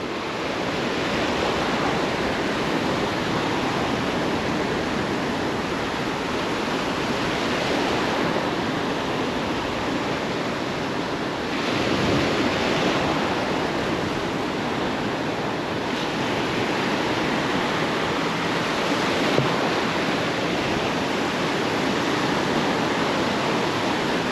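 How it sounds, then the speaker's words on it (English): Choppy surf rolls and washes steadily near the shore on a rough day of speckled trout fishing, a loud continuous roar of breaking waves with some wind noise and no talking. "Water's a little choppy, a little cloudy, a little muddy."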